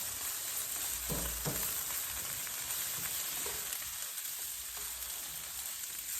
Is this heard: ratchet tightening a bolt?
no